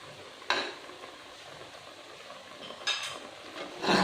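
Shrimp curry being stirred in a pan, with a few brief scraping and sizzling bursts of a spoon against the pan over a steady low cooking hiss, close and moderately loud.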